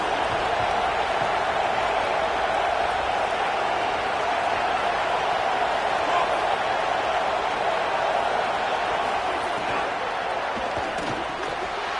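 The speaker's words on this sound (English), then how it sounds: "this crowd is turning it up a notch" A stadium crowd in a college football video game, Alabama versus LSU, roars in a dense, constant wash of cheering that stays loud and steady, with commentary voices talking over it.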